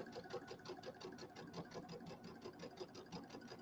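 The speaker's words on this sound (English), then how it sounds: "I'm going to sew from corner to corner with the needle in the center." A sewing machine stitches a diagonal seam corner to corner across a pillow, a steady rapid mechanical chatter of the needle running continuously and fairly quietly, with no talking over it.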